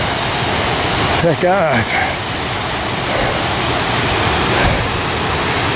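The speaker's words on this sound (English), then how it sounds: "And I found another waterfall." Steady broadband rush of water from a waterfall in North Wales, loud and continuous throughout, with someone speaking briefly near the start.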